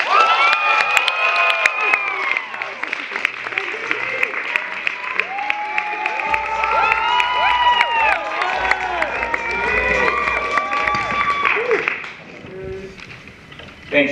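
A university crowd cheers, whoops and claps loudly for a stand-up comedian taking the stage, shrill shouts and whistles riding over sustained applause before it thins out near the end.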